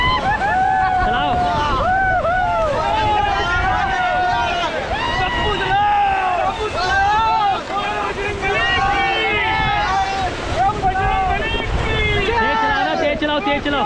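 Rafting crew paddling a raft down the Ganges river stretch from Shivpuri to Ram Jhula near Rishikesh, with steady rushing water and wind noise throughout while people shout and call out under a continuous loud wash.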